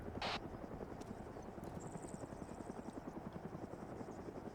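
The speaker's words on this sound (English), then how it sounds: "Is that a friendly helo taking off?" A friendly military helicopter lifts off in a video game, its steady rotor chop pulsing loud and close throughout, with a brief sharp burst near the start and a thin high whine above.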